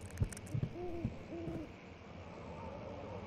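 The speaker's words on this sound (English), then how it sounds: "Ah, an owl. That's lovely." Owl in Amnesia: The Dark Descent, hooting twice in clear, soft calls against a quiet ambient hum, with a few faint knocks around them.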